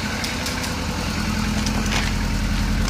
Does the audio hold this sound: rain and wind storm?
no